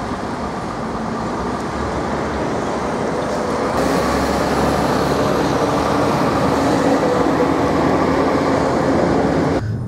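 Loud, steady rumble and roar of a Nizhny Novgorod metro train in motion, heard from inside the car, with continuous wheel and track noise that swells slightly partway through.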